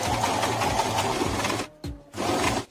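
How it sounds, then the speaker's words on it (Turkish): A sewing machine stitches bias tape around a corner in a steady rapid whir, close and loud, with a short pause before it runs again. "Şimdi tekrar dikmeye devam ediyorum."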